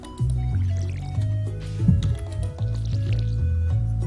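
Watering crops in the farming video game Stardew Valley: a squishy, liquid splashing and dripping effect repeats in steady pulses over a low game music bed, with no talking.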